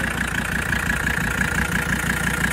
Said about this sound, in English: It actually doesn't idle too bad. Well, that just might be old diesel.